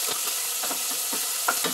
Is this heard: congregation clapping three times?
no